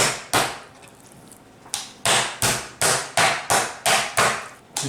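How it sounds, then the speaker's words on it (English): A knife bashes raw chicken into shape for schnitzel, sharp close thuds on a board: two spaced blows, then a quick run of about eight evenly paced strikes. "Now you're gonna bash with the knife to make the nice shape of it."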